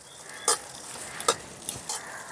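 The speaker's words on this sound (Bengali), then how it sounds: "এখানে কিছুটা ড্রাই ফ্রুট নিয়ে নিয়েছি, ঘির মধ্যে দিয়ে ভেজে নেব" Cashews, peanuts and raisins fry in ghee in a pan, a soft steady sizzle broken by a few sharp stirring clicks, close and fairly loud.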